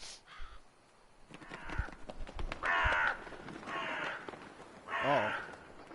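Crows caw several times in The Witcher 3: Blood and Wine, harsh repeated calls in short bursts at moderate distance, with a low thud or two underneath and no talking.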